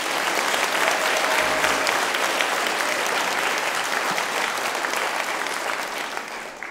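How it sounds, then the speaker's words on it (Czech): A packed audience at a Christmas charity concert claps steadily and densely for several seconds, a broad wash of hands that holds at full strength and only eases slightly near the end. "Můžete zatleskat, kolik vás tady je,"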